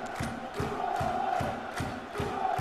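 Football stadium crowd in PES 2014 chanting and cheering, a steady roar with rhythmic pulses roughly every half second, loud and continuous throughout.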